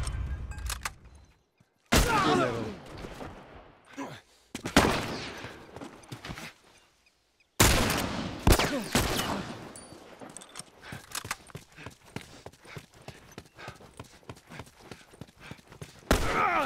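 Automated turret firing in The Last of Us during a fight: loud, rapid bursts of sharp gunfire-like cracks, broken by short pauses, then a long dense stretch of fast repeated shots.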